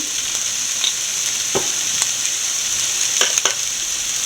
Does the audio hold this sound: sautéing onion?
yes